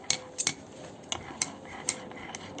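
A spoon stirs a mug of homemade hot chocolate, giving a handful of light, scattered metallic clinks against the cup, quiet and close, with no voices.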